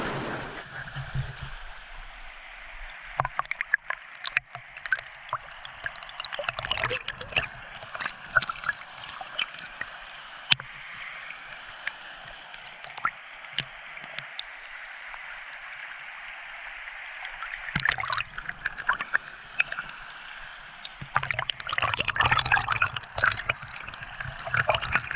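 Water captured with the recorder submerged during rockhounding, a steady muffled underwater wash with bubbly clicks and gurgles, turning rougher and busier in a few stretches.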